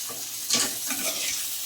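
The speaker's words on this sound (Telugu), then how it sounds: "చూడండి, ఇలాగ బాగా వేపుకోవాలండి. కారం కొంచెం పచ్చివాసన పోయేంత వరకు బాగా వేపుకోండి." Small bitter gourd (kakarakaya) pieces frying in a pan with chilli powder while being stirred, a steady close hiss and sizzle with brief scraping bursts and no talk.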